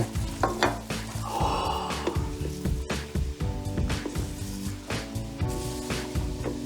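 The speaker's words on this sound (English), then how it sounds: "we add the popcorn to the color, 2 to 3 cups at a time. And we stir quickly to spread the color around" Popcorn is folded quickly into a hot colored sugar mixture, producing busy, uneven scraping and rustling strokes layered with other tonal sounds in the room.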